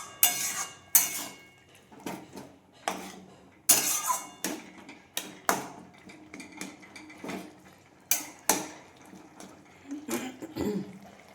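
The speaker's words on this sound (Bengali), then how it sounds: "এই লাউটা দিয়ে দিয়েছি, ভালো করে একটু মিশিয়ে নেব শাক আর লাউ।" A utensil stirs greens and bottle gourd together in a cooking pot, giving repeated sharp metallic scrapes and clinks that fall in an uneven, close rhythm, with no voices.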